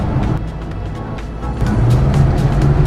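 A small Saab car with an 848 cc three-cylinder engine runs steadily nearby with a buzzy drone that swells louder about halfway through, heard alone with no talk.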